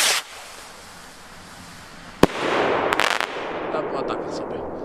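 TOTAL PXR303 rocket set fireworks going off outdoors: a sharp single bang followed by a cluster of crackling reports and a lingering rumbling hiss, loud and close.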